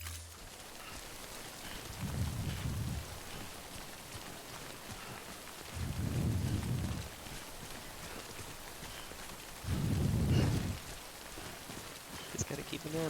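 Steady rain falls in Death Stranding, a faint continuous hiss beneath three bursts of low rumbling game sound, fairly quiet throughout.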